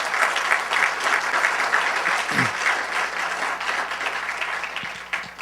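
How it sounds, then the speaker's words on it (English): An audience at a startup pitch event applauds the presenters, with sustained clapping from many hands that stays loud and dense throughout. "Can we get a round of applause for everyone who's presented?"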